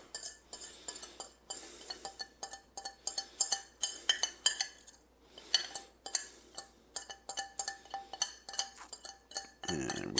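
A utensil stirs mayonnaise, pickle juice and hot sauce in a bowl, giving a quick run of bright clinks and scrapes against the bowl with a few short pauses, close and clear.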